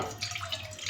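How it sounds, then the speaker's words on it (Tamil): Water pours into a pot on a stove as Kerala aviyal is started, a brief steady splashing rush that stays close and moderately loud, alone and without talk. "கொஞ்சம் தண்ணி ஊற்றிக்கிறேன்."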